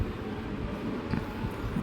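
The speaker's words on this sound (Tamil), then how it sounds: "இப்படி தான் போச்சு எங்களோட ட்ரெயின் ஜேர்னி வைகையில்." The Vaigai Express train runs from Madurai to Chennai, with a steady, close, broadband rumble and rattling of the moving carriage heard from inside.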